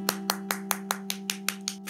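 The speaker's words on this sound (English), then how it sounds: "Give yourself a big clap." Children clap to a steady beat during a classroom bug sing-along, about ten sharp claps evenly spaced roughly every fifth of a second, fairly close, over a constant low electrical hum.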